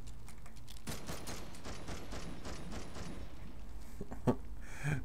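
Heavy gunfire in The Darkness 2, rapid clustered shots rattling off in quick bursts at moderate loudness, with one sharper crack near the end.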